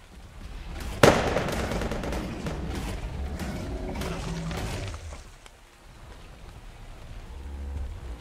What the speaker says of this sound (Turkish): Bu havai fişek gösterisi yapıyor ya bildiğin.